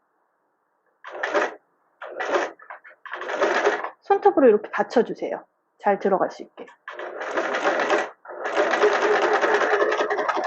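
A sewing machine stitches a rolled hem in fabric in several short bursts and then longer steady runs, close and clear, with someone talking between and over the stitching.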